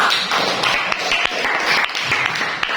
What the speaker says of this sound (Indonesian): Dan sekali lagi nak, beri aplaus untuk kita semua